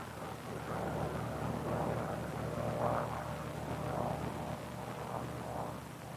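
A Bell P-39 Airacobra fighter comes in to land, its engine a steady, moderately distant drone with a slight rise and fall in loudness, heard alone without voices.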